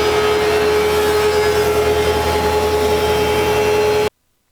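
Wood planer taking a light skin pass over wooden boards for a bedroom storage bench, a loud continuous mechanical roar with a steady pitched hum that runs unbroken for about four seconds, then stops abruptly.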